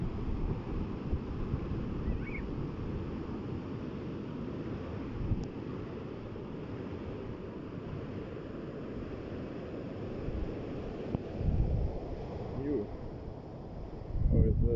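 Wind blows outdoors in Copenhagen, a steady low rumble and buffeting against the microphone that runs throughout, with someone talking over it.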